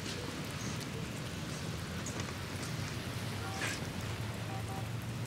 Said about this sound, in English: It's raining, dude